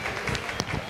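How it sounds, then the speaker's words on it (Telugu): A burst of dense audience clapping at the Kurnool Utsav 2025 cultural festival, loud and continuous across the brief moment with crowd murmur mixed in. "గట్టిగా చప్పట్లో ధన్యవాదాలు."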